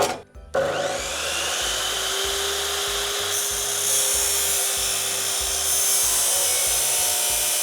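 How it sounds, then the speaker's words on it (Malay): A loud, continuous grinding rasp of a steel C-channel being cut, with a strong rhythmic low rumble running steadily underneath. "kalau betul nak test kan kita kena test potong besi"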